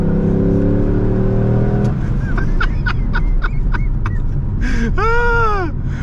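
A C5 Corvette engine is pushed to full throttle, its loud rising roar climbing quickly through the revs; a voice exclaims near the end over the engine noise.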